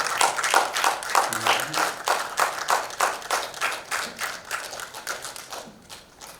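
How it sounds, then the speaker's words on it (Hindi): Audience at the Bharat Ratna Dr APJ Abdul Kalam Awards ceremony claps in a strong, nearly regular rhythm of sharp beats that gradually thins and fades. "जोरदार तालियों से उत्साहवर्धन कीजिए और स्वागत कीजिए सुनील पाल जी का"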